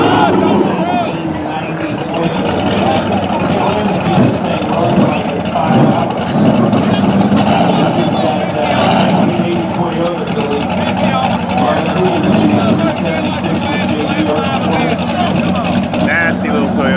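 A Toyota drag race car staged in the right lane at KD Dragway, its engine a rough steady rumble amid track noise, with a commentator talking over it throughout.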